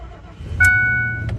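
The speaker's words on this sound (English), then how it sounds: "Let's see if the truck starts." A truck engine turns over and catches after a short low rumble, with a sharp click and a steady whine ringing on as the motor settles into idle.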